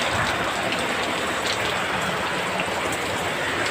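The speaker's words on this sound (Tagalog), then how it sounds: "Lakas ng ulan guys, lakas." Heavy typhoon rain pours down in a dense, steady roar of drops hitting surfaces close by, loud and unbroken, with no voices.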